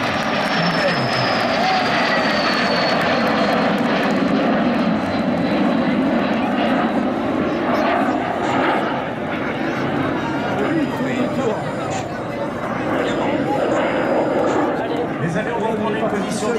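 Small propeller airplanes of an aerobatic formation team drone loudly and continuously overhead, their engine pitch slowly shifting, while someone comments in French.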